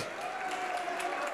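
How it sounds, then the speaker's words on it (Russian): Audience applause for a dancer at a stage dance program, steady dense clapping filling the whole stretch at moderate level, with a faint murmur of crowd voices underneath. "Ей аплодисменты отдельные."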